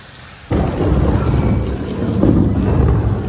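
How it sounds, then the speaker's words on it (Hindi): Heavy rain suddenly roars in, a dense, loud wash of falling water drumming on a car roof overhead, steady and close. "देख रहे हो साउंड, देख रहे हो साउंड, देख रहे हो गाइस, बारिश पड़ रही है ऊपर से"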